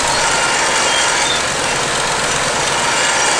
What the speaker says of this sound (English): This is the engine, some big Gardner thing, I think.